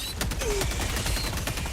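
The Tenderizer rifle in Helldivers 2 fires a rapid burst of sharp, loud shots in a quick irregular rhythm, with mechanical clatter mixed into the gunfire.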